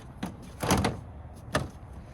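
Plastic trim panel in a 2009-2014 Acura TL engine bay being slid into place under other panels, a few short scraping rubs and clicks, close and fairly quiet.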